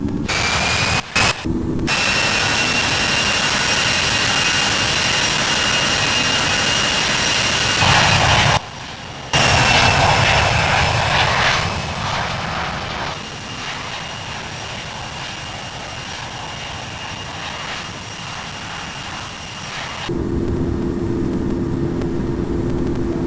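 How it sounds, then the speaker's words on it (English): An aircraft departing Heathrow runway 27 left roars steadily and loudly for the full stretch, its engine tone holding strong, briefly cut out, then continuing as it climbs away, with no talk over it. "Moose 17 is taking off runway 27 left,"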